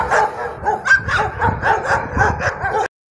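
A pack of stray dogs on a city street, barking and yipping in rapid overlapping bursts with growls and whimpers mixed in, loud and fairly close, ending abruptly.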